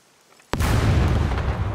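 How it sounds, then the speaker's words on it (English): A thrown grenade detonates in the survival game Scum: half a second of near quiet, then a sudden loud, close blast that rolls on as a heavy rumbling boom. "I can throw grenades over that wall, but with Shift G"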